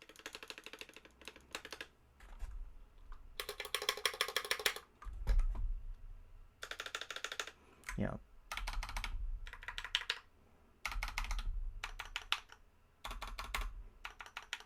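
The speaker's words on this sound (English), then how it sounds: "here is a space bar that is, this is the drop alt board, high profile board, and I modified my stabilizer" Typing on a modded Drop ALT high-profile mechanical keyboard with modified stabilizers, heard as bursts of clacking keystrokes separated by short pauses, with deeper thuds in between that may be space bar presses.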